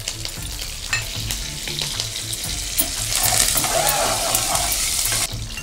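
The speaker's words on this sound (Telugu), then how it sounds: "ఇప్పుడు కరివేపాకు వేసుకుందామండి." Curry leaves added to hot oil for a Telugu aloo bath, a spiced potato rice dish, with green chillies already in the pan. A loud, steady frying sizzle runs throughout, with occasional stirring scrapes and no talking.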